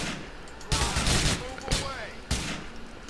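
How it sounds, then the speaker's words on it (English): Gunfire in the LCPDFR police mod of a video game: several loud bursts of shots during a confrontation with an armed suspect, close and heavy, with other game sounds around them. "Are you killing him? Have to, he has a gun, Bianca."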